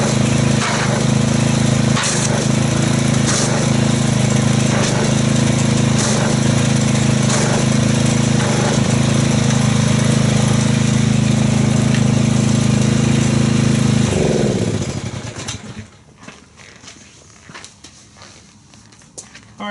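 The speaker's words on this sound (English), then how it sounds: "let's crank the pressure washer up and see how much foamage we get from this" A pressure washer runs loud and steady, spraying wash foam onto a car, its motor drone and hiss constant before cutting off abruptly near the end, leaving quiet background.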